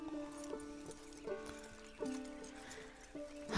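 Horse from the video game Red Dead Redemption 2, with soft repeated hoof clip-clops at a steady walking rhythm, a brief whinny rising near the end, over a light game ambience and faint music.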